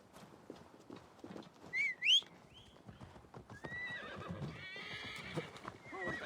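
A horse in the video game Assassin's Creed Valhalla gallops with steady clip-clopping hooves and lets out a sharp, rising whinny partway through, over in-game ambience.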